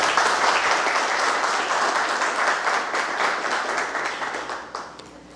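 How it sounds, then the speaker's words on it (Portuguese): Audience at a special council session for World Autism Day applauding an association, a full sustained round of clapping that slowly thins out and fades near the end. "gostaria de uma salva de palmas a toda a associação"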